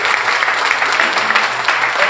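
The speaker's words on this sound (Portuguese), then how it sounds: "Pode aplaudir o Senhor Jesus." A church congregation applauding during an evening worship service, a loud, dense and steady burst of many hands clapping close by, with no voices over it.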